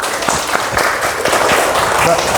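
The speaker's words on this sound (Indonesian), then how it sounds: "Tepuk tangan buat Akmal" Schoolchildren in a classroom clap for a classmate, a short, dense burst of applause with scattered voices mixed in.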